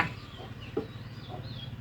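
A chicken at a home in Thailand clucks a few times nearby, soft, separate calls over a low steady background, with no one talking.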